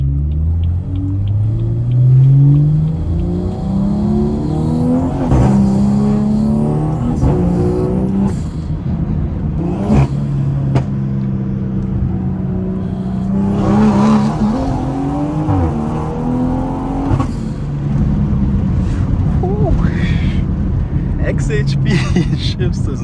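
A straight-piped BMW on rough, potholed roads revs hard through repeated upshifts, its exhaust climbing and dropping with pops and crackles on throttle lift, loud and close, while someone talks over much of it.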